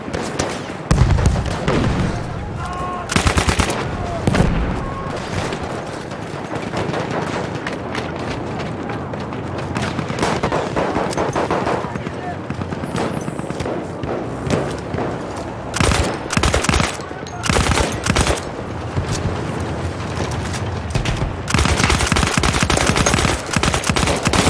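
Aerial bombs from a plane drop and burst in Battlefield 1, among near-constant rapid gunfire and explosions in a busy battlefield mix, loud and dense throughout with several heavy bursts.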